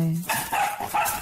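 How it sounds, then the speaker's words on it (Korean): A stray dog trapped in a net during a winter rescue barks in several sharp, loud, close bursts, preceded by a brief whine. "이렇게 짖는 모습은 처음인데요"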